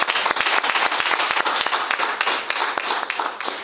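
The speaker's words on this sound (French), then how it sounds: "Acclamons pour le Seigneur." Steady applause from a church congregation during a French-language service, dense overlapping claps filling the room with sharp individual hand strikes standing out, continuous for the whole stretch with no talk over it.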